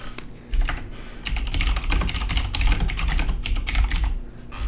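Rapid, close typing on a computer keyboard, a dense run of clicking keystrokes with brief pauses, loud and clear with no talking.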